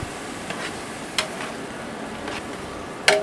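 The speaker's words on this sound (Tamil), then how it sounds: "புதினா கொஞ்சம், கொத்தமல்லி கொஞ்சம் சேர்த்து நல்லா கிண்டி விட்டுப்போம்." A large pot of egg biryani for 150 servings is stirred with mint and coriander mixed in. The stirring gives soft scraping and swishing, with a few sharper clanks of the utensil against the pot over a low background hiss.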